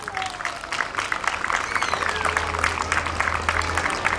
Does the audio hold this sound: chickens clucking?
no